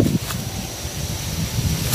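Strong wind gusts through bamboo at a cemetery, rustling the leaves in a steady, close, broadband roar with no break.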